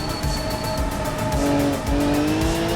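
A Formula 1 car in the BeamNG.drive racing game holds a steady high engine note while its tires squeal in long rising and falling tones through cornering.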